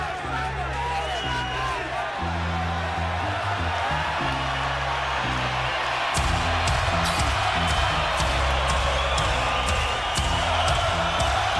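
An arena crowd roars for Gennady Golovkin at his 2017 boxing bout against Canelo Álvarez, a broad continuous swell of cheering under a commentator's voice and pulsing low music.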